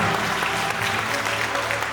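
Loud, dense applause from wedding guests in a wedding hall fills the whole stretch without pause.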